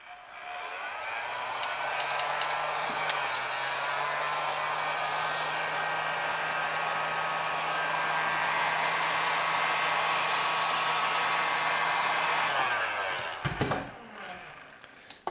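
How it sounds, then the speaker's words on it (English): A heat gun blows a steady, loud whir for about twelve seconds, softening spilled-over material on a wooden holiday star block, then clicks off near the end. "I'm gonna use a heat gun and just chisel out what I don't want there."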